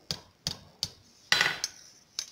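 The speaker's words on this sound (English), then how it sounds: "we're going to start curling it, just brushing over the corner of the anvil" Hammer blows striking copper over the corner of an anvil while forging a cross, six sharp metallic strikes at a steady pace with short ringing decays, one heavier ringing hit among them, close and clear.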